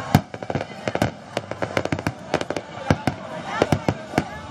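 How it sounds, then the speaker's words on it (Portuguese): Fireworks bursting over Parque do Japão during a Christmas event with Santa's arrival: a dense series of sharp, loud cracks and booms at irregular intervals, with crowd voices murmuring underneath. "15 minutos de fogos,"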